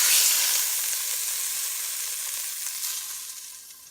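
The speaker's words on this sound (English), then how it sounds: "So we got a beautiful sear going on here." Meat searing in hot olive oil for a pot roast, a steady bright sizzle that is loudest at the start and eases slightly over four seconds, close up with no talking.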